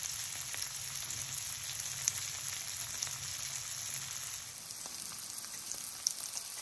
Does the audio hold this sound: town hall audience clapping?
no